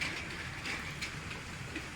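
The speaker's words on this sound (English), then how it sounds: "So looks a lot better with the train going around." Lego toy train running around its track in a home layout makes a continuous faint rattling whir with light periodic clicks, steady and fairly quiet, with no talking.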